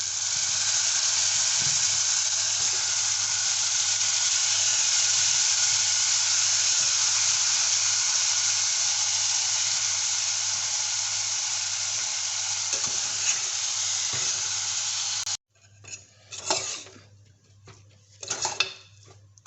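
Guar beans and washed potato pieces hit a hot pan in a home-cooked Indian sabzi, giving a loud, steady, close sizzle for about fifteen seconds, then the frying drops away to a few scraping stirs and clinks of a utensil against the pan.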